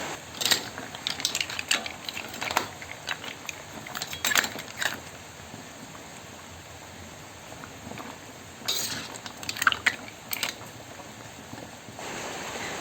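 A spoon stirring mussels with lemongrass in a metal pot, giving scattered clinks and scraping knocks in short bursts with quiet gaps between them.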